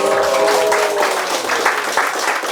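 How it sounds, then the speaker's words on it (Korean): Audience applause after a presentation at a Korean fact-checking workshop, a loud, dense burst of clapping running throughout, with a faint voice briefly audible under it near the start. "박수 한번."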